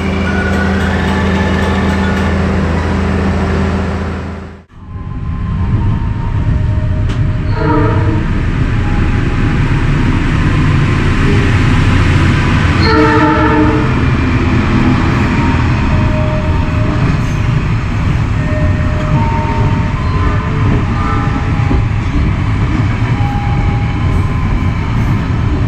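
A train pulls into Cikampek station in Karawang at night, a loud continuous rumble of rolling wheels and carriage noise that dips briefly early on, then carries on steadily with faint squeals and rattles.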